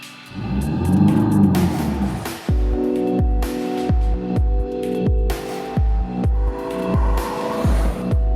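A Maruti Vitara Brezza with the 1.3-litre DDIS turbo diesel engine drives with a loud, close engine note that climbs and drops in repeated surges. No voices are heard.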